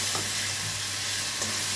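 Rice being stir-fried in a pan, a steady loud sizzle with a few scraping stirs of a spatula, close up with no talking.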